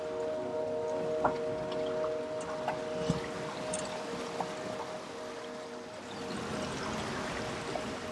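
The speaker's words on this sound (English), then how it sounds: "There we go, we survived the river crossing." Steady rushing and splashing of water as a 4x4 vehicle fords a river crossing near Bajo del Toro, Costa Rica, continuous and fairly close, with a persistent engine hum and occasional sharp splashes.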